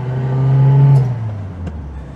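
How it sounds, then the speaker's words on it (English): Zastava car in first gear with no synchromesh: a loud steady gearbox whine over the engine drone rises in pitch, holds, then drops away as the car eases off. "Oh, lovely gearbox, whining first."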